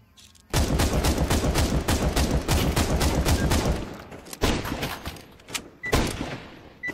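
Rapid automatic gunfire in Counter-Strike 2, a dense sustained burst of close, loud shots lasting several seconds, followed by a few scattered single shots and thuds.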